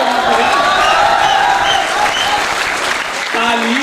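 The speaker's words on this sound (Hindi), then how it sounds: "ताली बजाओ मिल के सारे जोर जोर से," Audience clapping at a Hindi comic poetry gathering (hasya kavi sammelan), dense sustained applause filling the hall, loud and continuous, with a voice talking over it partway through.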